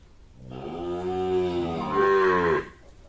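Sahiwal breed bulls at a cattle sale low once in a long, deep, steady call of about two seconds, swelling louder and brighter near the end, close by with no talking.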